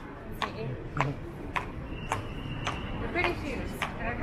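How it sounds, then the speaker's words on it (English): Worn-out old shoes with broken-down heels clip-clop on a downtown Toronto sidewalk along Yonge Street, giving about eight sharp, evenly spaced steps over steady street noise and faint background voices. "And the bottoms of the heels like have come off, so they make a really loud noise."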